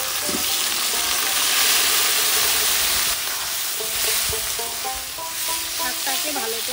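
Tender steamed lafa greens are tipped into a hot frying pan where katla fish head has been cooking, then stirred. A steady close sizzle runs throughout, with spatula scrapes and stirring clatter on top.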